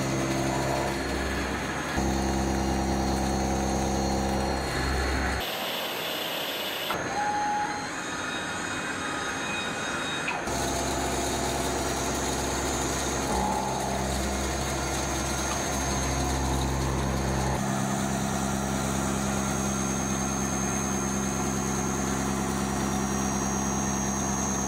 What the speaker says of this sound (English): Large cutting tools remove excess stock, shaping the exterior into a recognizable profile.